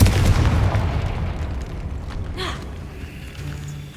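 A Confringo blasting spell goes off in the Hogwarts Legacy video game as a loud booming explosion that rumbles from the start and slowly fades. A short crackling burst comes midway, and game ambience fills the background.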